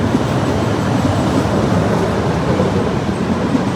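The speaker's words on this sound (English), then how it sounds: "The train approaching on track 13." Train approaching a platform at a Rome station on track 13: loud, steady broadband rumble and rolling roar without distinct pauses.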